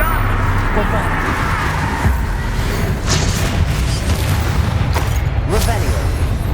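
A Bombarda explosion spell goes off in a wizard video game: a dense, booming blast rumbles on with a few sharp cracks and bursts, loud and close, over constant game noise.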